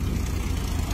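A Farmtrac tractor engine keeps running at a steady low idle, a continuous close rumble with no breaks and no voices.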